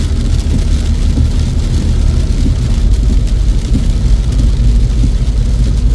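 Rain while driving a BMW on German roads, a loud, dense and unbroken wash of noise heard from inside the moving car, with no talk over it.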